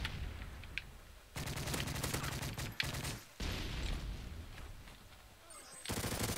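Submachine gun fire in the video game Modern Warfare 3 comes as sharp, rapid bursts separated by short gaps, loud and close against quiet game background.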